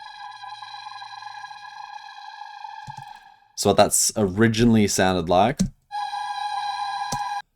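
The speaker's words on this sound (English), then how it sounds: "it's just like a vocal tonal reverb hit" A vocal tonal reverb hit in drum and bass production rings as a sustained, harmonic-rich tone, cut off for a few seconds while someone talks, then returning.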